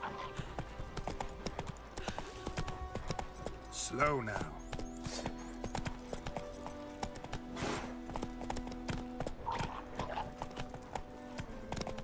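Horse hooves clip-clopping steadily in The Witcher video game as the horse Roach gallops, with a whinny and other game sounds around it while a person speaks over the top.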